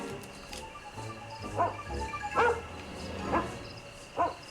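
Dog barking in a Sherlock Holmes video game, several separate sharp barks spread across a few seconds over a low, steady game ambience with no talk.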